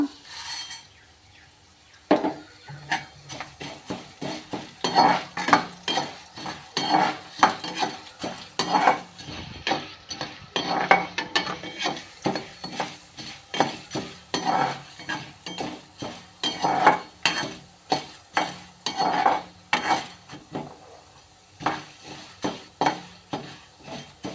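Coriander seeds being stirred as they dry-roast in a pan for a garlic kara kuzhambu, with chana dal also in the pan. A spoon scrapes and clinks steadily against the metal in a close, repeated rhythm, with no talking.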